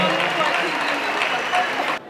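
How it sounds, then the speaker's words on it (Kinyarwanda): An audience at a cultural performance event applauds, a dense, loud wash of clapping that carries on steadily for about two seconds and then cuts off abruptly. "tumuhe amashyi menshi cyane"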